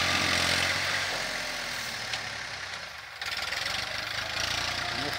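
A Massey Ferguson 1035 DI tractor works a tiller in a farm field, its diesel engine droning steadily and loudly with a brief dip in load before pulling hard again.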